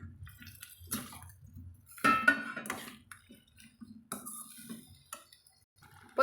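Drumstick pieces are stirred into masala in a pan, giving scattered clinks, scrapes and soft clatter from a spoon against the pan, with quiet stretches between bursts of stirring.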